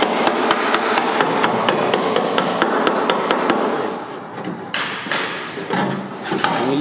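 Rapid, loud hammer blows pound a wrecked Yukon XL body panel, a steady rhythm of sharp metallic strikes that slows and turns more irregular toward the end.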